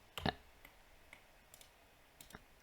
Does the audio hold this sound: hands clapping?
no